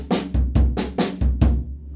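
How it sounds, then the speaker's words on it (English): Drum kit exercise built on a left-foot clave: a single low bass drum thump followed by two crisp hand-played strokes, cycling evenly, close and loud with no voices. "And then you're going to do 1 on the bass drum and 2 on the hands"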